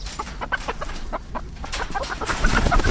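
A cockerel clucks repeatedly and close by in a barn, its short throaty calls running over rustling and background noise.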